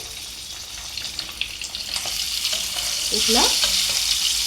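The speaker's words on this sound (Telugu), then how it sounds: "ఎగ్స్ అన్నీ కూడా ఇట్లా ఆయిల్లో మంచిగా ఫ్రై చేసుకోవాలి." Eggs fry in hot oil in a pan for egg curry, making a loud, continuous crackling sizzle that swells toward the end. A brief spoken word sits over it.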